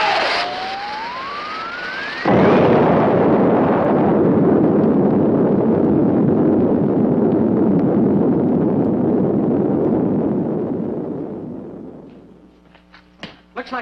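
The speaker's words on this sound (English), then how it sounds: "Looks like there's been some kind of an explosion over in Pelham Woods." An explosion in Pelham Woods from a 1957 science-fiction film: a rising whistle cuts into a loud, sustained roaring blast that rumbles for about ten seconds before fading out, leaving brief faint sounds at the end.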